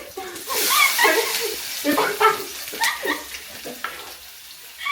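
Onion with some water fries in hot ghee, spitting and crackling in uneven bursts while someone talks over the sizzle in a home kitchen.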